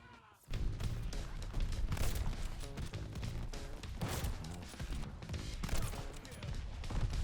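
Gunfire at a hardpoint in a video game, dense bursts of shots and impacts starting abruptly and continuing steadily, mixed with game voice announcements.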